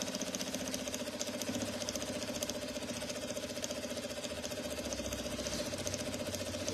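A domestic sewing machine stitching zigzag on a bread basket project, running with a steady fast rhythmic whir and chatter throughout at close range.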